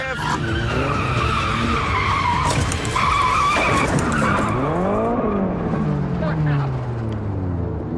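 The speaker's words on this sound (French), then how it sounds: "Je commence le drift." A car drifting hard through a tight 90-degree turn, tires screeching in a long, loud skid over a roaring engine whose pitch sweeps down and up, with someone talking over it.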